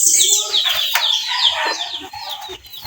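A maroon lasak-type gamefowl rooster from a crossbreed flock calls and clucks close by in a short series of bright bursts. Other birds chirp in the background, and there may be faint talk.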